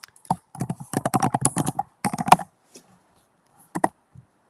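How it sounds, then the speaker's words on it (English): Loud, fast computer keyboard typing rattles in a quick burst of sharp clicks for about two seconds, then stops, followed by a few isolated taps. "Giselle, you are the loudest typer I have ever heard in my entire life"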